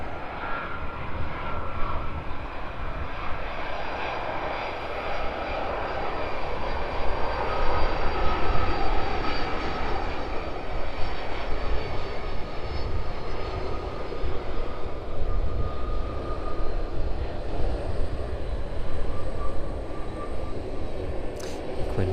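A landed airliner rolls out along the runway at East Midlands Airport after deploying reverse thrust, giving a steady, loud engine roar with broadband rumble that holds throughout, no voices.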